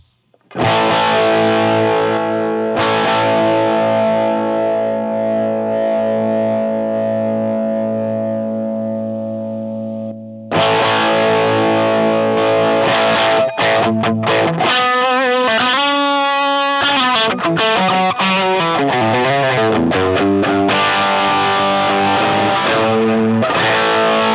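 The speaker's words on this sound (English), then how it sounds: "We want it to be more of a distortion." Electric guitar played through a Rat-style distortion patch on a Line 6 Helix for a Dumble-style tone: a long sustained distorted chord rings out and decays, then after a brief gap dense, loud distorted chords and bending lead lines follow, with no talking.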